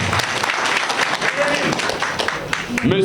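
An audience at a ceremony installing a new president of the Guinean community in Port-Gentil claps steadily, with dense, continuous applause throughout and a voice briefly audible over it near the end.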